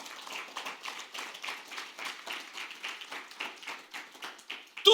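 A church congregation claps in praise, a rhythmic pulsing patter of hands at a moderate distance, fairly soft and continuous.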